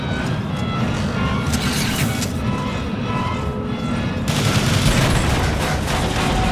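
Sustained gunfire in the video game Transformers: War For Cybertron, a dense, loud barrage of shots rolling on without pause and swelling louder toward the end, with no talking.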